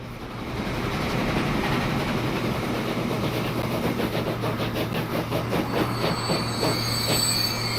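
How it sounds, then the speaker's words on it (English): A train in the video game Transport Fever 2 rolls steadily along the rails, wheels rumbling and squealing with a rhythmic clickety-clack, loud and continuous after a short fade-in. "that's the train we saw leaving"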